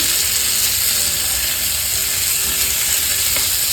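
Onion frying in oil in a pan for a paneer curry, with coriander added, gives a steady, close, moderately loud sizzle with fine crackle throughout and no talking.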